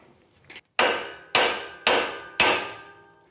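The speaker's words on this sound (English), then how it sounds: "we're going to smash this with a hammer just to break that ball joint" A hammer strikes metal four times at an even pace to break a ball joint loose on a Mazda BT-50 / Ford Ranger suspension. Each blow is a loud ringing clang that decays quickly, and a lighter tap comes before the first one.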